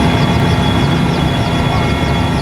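An Mi-17 helicopter drones loudly and continuously, a dense rotor and engine roar with a steady whine on top, filling the whole stretch at close range.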